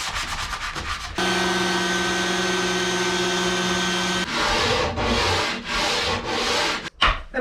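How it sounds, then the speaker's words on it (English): Veneered plywood on a wooden boat's steps is rubbed by hand with a sanding sponge. A short scratchy rasp comes first, then a long steady hiss of sanding, then several close back-and-forth strokes with brief pauses between them. "clean up a little bit inside with a sanding sponge where I have pencil marks"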